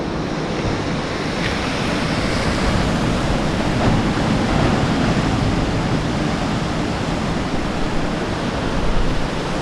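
Atlantic waves surging around a rock jutting from the ocean at Porto Moniz, Madeira, a loud, continuous roar of churning surf with wind noise, no voices.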